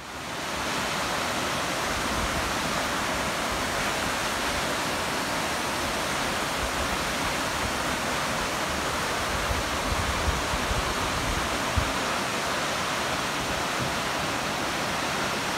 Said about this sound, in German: Stopp zu den Thunder Creek Falls.